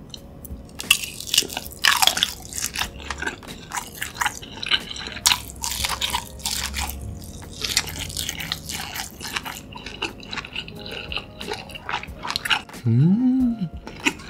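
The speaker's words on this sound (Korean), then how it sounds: "기본 소시지부터 한번 먹어볼게요." Biting into and chewing a sausage dipped in cheese fondue at a close-up eating session, with wet crunchy bites and moist chewing repeating close to the mic through the clip.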